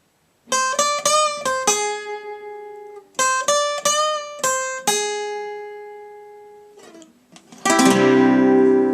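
Electric guitar plays a short melody of picked notes, including a slow string bend that slides up and back, then a strummed chord rings out at the end.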